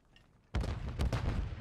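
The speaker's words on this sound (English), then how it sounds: "I got shot from both ways." Gunfire in Call of Duty MW3 ranked multiplayer breaks out abruptly as a loud, close burst of several rapid shots after a brief quiet moment, continuing dense and punchy to the end.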